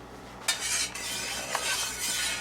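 A metal spoon stirs sweet tea in a small pot, giving a few light clinks against the side over a steady soft hiss, close and moderately loud.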